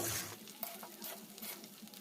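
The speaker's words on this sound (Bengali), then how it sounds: "ভালো করে নেড়ে চেড়ে নেব।" Fried rice being stirred in a pan makes soft scraping and pattering, with a faint sizzle in short irregular strokes, close and quiet.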